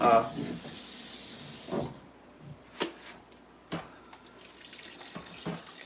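Water from a kitchen tap gushes loudly into a pot for a couple of seconds, then stops, followed by a few clanks and drips.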